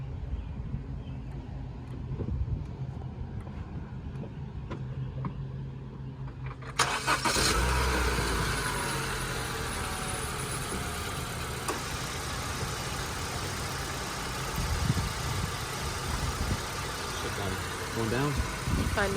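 A 2015 Honda Civic engine cranks and catches, then settles into a steady idle that runs on throughout, with people talking over it in a garage during a coolant flush.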